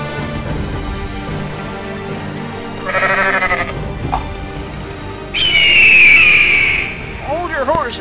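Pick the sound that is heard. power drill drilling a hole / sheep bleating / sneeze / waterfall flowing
sheep bleating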